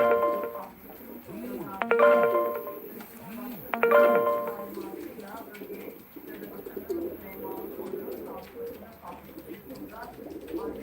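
A pigeon at a live pigeon auction gives repeated throaty coos in rhythmic bursts, close by, while someone talks over much of the sound.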